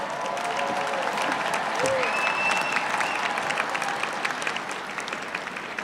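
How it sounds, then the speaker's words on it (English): A large audience at a UNLV graduate commencement applauds doctoral degree recipients, sustained crowd clapping with scattered cheers, steady throughout and easing slightly toward the end. "And let's have one more round of applause for all of our doctoral degree recipients"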